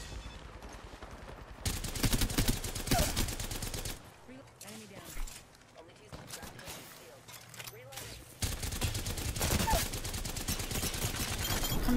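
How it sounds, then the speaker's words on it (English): Gunfire in the Apex Legends video game, bursts of rapid shots coming in loud, dense stretches broken by quieter pauses, with voices talking during the lulls. "I'm shooting two pathfinders at this point."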